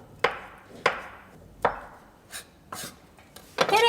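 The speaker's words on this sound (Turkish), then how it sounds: "Gördüğünüz gibi bıçakla böyle ince ince kıyılıyor." A knife chops keş, dried curd cheese, into fine bits: three sharp, close strikes about a second apart, then several softer, scraping cuts. No voices.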